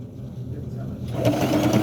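A sewing machine stitches a piece of fabric into a mattress pad for a bassinet, giving a steady low mechanical hum that picks up and grows busier partway through, with a person talking over it.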